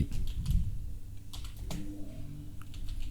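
Fingers type quickly on a computer keyboard, a close run of light clicking keystrokes with a low hum underneath.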